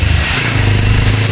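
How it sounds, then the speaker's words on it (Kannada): A motorcycle rumbling close by on a road during a trip to a waterfall, a loud, steady engine drone for a moment. "ಒಂದು ಬೈಕ್ ಹೋಗ್ತಿದೆ ಆ ಬೈಕ್"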